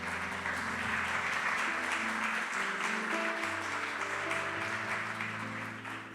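A church congregation applauds in worship, a sustained wash of clapping beneath organ-like music chords, fading slightly at the end.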